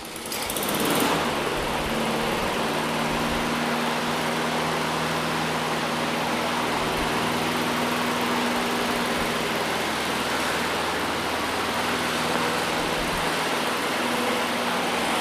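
A Honda self-propelled lawn mower engine runs steadily after repair, a loud, continuous small-engine drone with a sharp start at the beginning, holding an even idle throughout with no talking.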